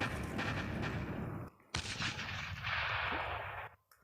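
Homing bullets fired from a tank in the video game Tank Hero: a series of loud, blasting game gunshots with booming decay, one burst after another, with short gaps between them.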